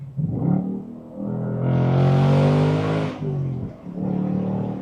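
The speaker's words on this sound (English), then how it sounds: "The best part about the oral experience is the sound that comes out of the exhaust." A 2025 Ford Mustang GT convertible's V8 exhaust revs loudly up and back down in a few throaty bursts, a deep burbling roar close by.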